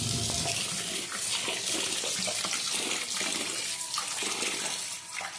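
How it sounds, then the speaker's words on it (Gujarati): Soaked rice and fenugreek seeds for dosa are rinsed in water, with continuous splashing and pouring close by, stirred and rubbed by hand in a vessel, and no talking. "હવે આને એકદમ સારુંથી 2-3 પાણીએ ધોઈ નાખવાનું છે"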